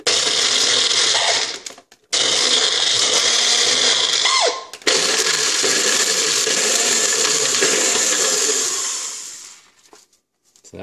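Nutribullet blender grinding nuts to powder, loud high-pitched motor whirring in three bursts separated by brief pauses, the last one winding down to silence.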